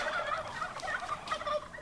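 Wild turkeys gobbling, a rapid warbling chorus of several birds close by and fairly loud, rattling continuously without pause.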